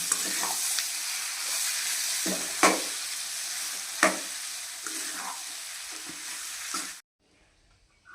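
Cut potatoes being stirred and fried in oil in a pan for masala dosa filling, a steady close sizzle broken by several louder scraping stirs, then stopping abruptly near the end.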